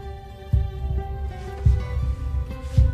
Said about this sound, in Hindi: मेरे दिल की धड़कनें फिर से तेज हो गई।